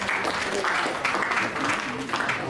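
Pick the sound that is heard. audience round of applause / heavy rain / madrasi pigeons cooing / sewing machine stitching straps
audience round of applause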